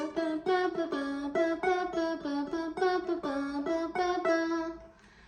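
A song's riff on ukulele, a bright plucked melodic figure repeating in a steady rhythm, close and clear, ending with a short fade.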